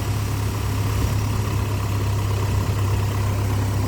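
A Splash Sport Danger Ranger engine idles steadily at close range, a constant low hum with a strong steady tone and no voices over it.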